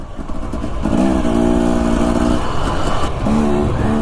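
Dirt bike engine revving and shifting through gears while riding a rough, rocky desert trail in Utah's White Wash area, a steady loud motor drone with rising pitch sweeps throughout.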